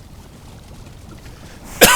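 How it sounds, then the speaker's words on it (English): A single short, sharp cough from a person who has been ill bursts out near the end after quiet background noise. "Still got this cough that's been going around."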